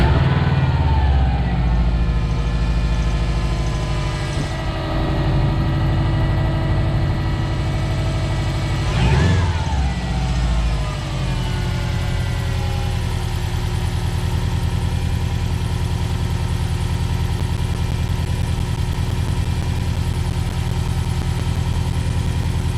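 A Subaru WRX with an EJ205 engine idles steadily with a squeaky A/C idler pulley, a loud constant engine drone with a high whining tone layered over it and a brief rev swell midway.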